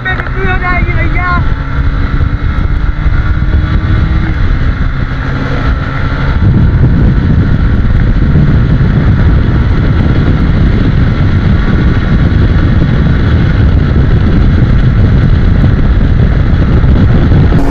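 A Bajaj Pulsar N150 and a TVS Raider 125 motorcycle drag racing, heard as loud, continuous engine roar heavily buffeted by wind rushing over the microphone, with a rising tone early and a voice talking over it.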